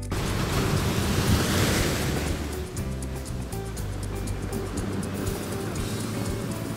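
Steady, dense wash of surf rolling in on a beach at Liwliwa, Zambales, loud and continuous, with a low rumbling undertone and no voices.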